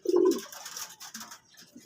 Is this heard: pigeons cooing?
yes